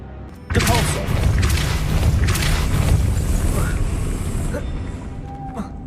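A Depulso spell cast in the video game Hogwarts Legacy lands as a sudden loud boom, followed by several seconds of rumbling, crackling blast noise that slowly fades.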